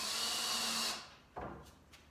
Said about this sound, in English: I'm only drilling or screwing them in far enough